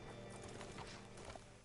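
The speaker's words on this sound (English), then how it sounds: "Hitch your horse up here." Horse hooves clip-clop steadily and close by in the Red Dead Redemption 2 video game, a dense rhythmic patter of hoofbeats with a brief whinny-like tone and faint mechanical clinks.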